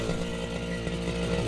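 A petrol grass cutter (brush cutter) runs steadily close by on an overcast day, its engine whining at a constant high buzz throughout with no pauses.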